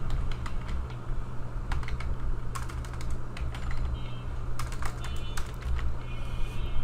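Someone types on a computer keyboard in irregular bursts of crisp key clicks with short pauses, close and moderately quiet over a steady low hum, with no talk.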